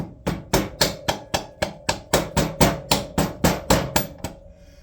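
A hammer drives an axle into the wheel of a Yamaha SRX600 motorcycle during restoration, with about fourteen sharp, evenly spaced metallic taps in a steady rhythm, close and clear.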